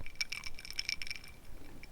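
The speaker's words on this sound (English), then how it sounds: "This is the sound of the ice cubes in the whiskey." Ice cubes clinking in a glass of whiskey, a few bright, faint, close chinks clustered in the first second, then fading into quiet.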